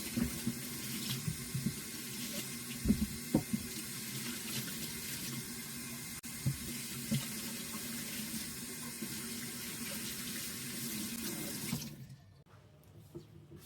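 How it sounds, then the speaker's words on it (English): Freshly harvested vegetables rinsed under a running kitchen tap, with a steady, moderately loud stream of water splashing for about twelve seconds before it shuts off into near quiet. "The veggies will also be rinsed under water and drained."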